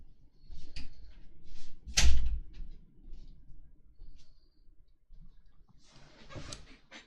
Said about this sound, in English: let me close my door proper.